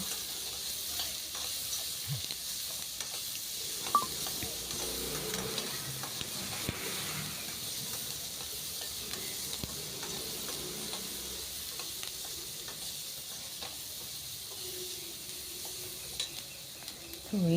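Vegetables frying in a pan for a capsicum palya, a steady sizzle that runs throughout with scattered scrapes and stirring taps, close and alone with no talk.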